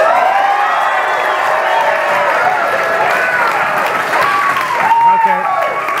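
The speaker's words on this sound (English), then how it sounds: "Let's cheer for Christina." A church audience cheers for a person named Christina with loud, sustained clapping, whoops and high excited voices, some sounding like children, all blending into a bright, continuous roar.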